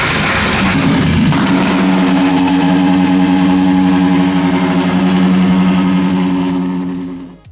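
A twin-turbo V12 Ferrari engine fires up after the starter and revs loudly, a steady, dense mechanical roar with rising and falling harmonics that holds for about seven seconds before cutting off.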